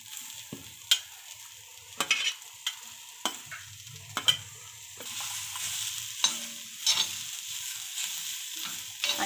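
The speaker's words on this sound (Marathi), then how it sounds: "आता ह्यामध्ये कांदा घालून घ्यायचा आहे" Onion fries in a pan for Malvani-style cashew bhaji, a soft sizzle broken by repeated sharp spatula scrapes and taps against the pan, close and fairly quiet.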